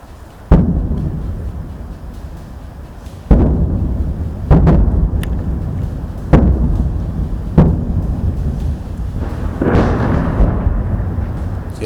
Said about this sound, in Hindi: ये उस शेलिंग की आवाज़ है।